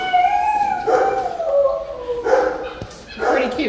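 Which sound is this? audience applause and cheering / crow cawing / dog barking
dog barking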